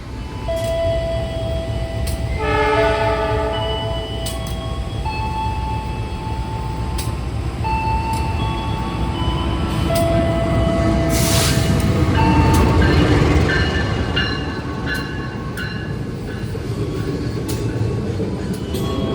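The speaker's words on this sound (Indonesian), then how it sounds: "Kita bersilang dengan kereta tambahan Solo Bandung ya teman-teman" A passenger train rumbles past at close range, seen from another train on Indonesia's southern line near Banjar, a steady loud roar of wheels and carriages with high metallic tones and squeals over nearly twenty seconds.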